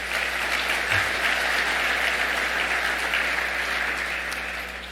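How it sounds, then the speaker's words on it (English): Audience applause at a bowling association convention meeting in a large hall, sustained even clapping from many people that tapers slightly at the end, with a low hum beneath it. "Please give them a round of applause."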